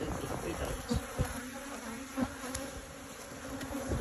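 Honey bees buzzing close by during a honey harvest, a steady drone with individual bees flying past in brief louder swells.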